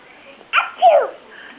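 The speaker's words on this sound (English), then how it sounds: "can you sneeze?" A single sharp sneeze-like burst followed by a short breathy exhale, close up, with a quiet background and no other sounds.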